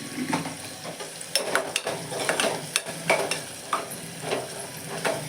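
Ingredients being stirred and roasted in a pan for misal, with steady soft sizzling and repeated scraping strokes of a spoon against the pan, close and moderately loud with no talking.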